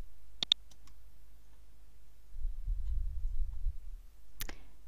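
A computer mouse clicks during data entry in purchase-order software: a quick pair of sharp clicks, a quiet pause with faint background rumble, then one more crisp click near the end.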